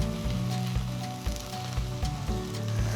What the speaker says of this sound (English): Let's just get a little bit of that char going.